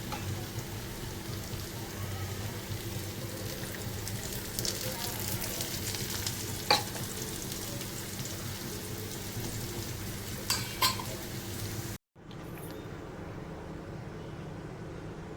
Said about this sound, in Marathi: गॅसने मीडियम एकदम स्लो केलं. अशी मी पलटी करून घेते.